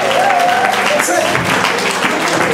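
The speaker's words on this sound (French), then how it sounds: "Bon, acclamons quand même" A congregation at a night church service applauds, a dense steady clatter of many hands heard close and loud, with voices and a faint tone mixed in.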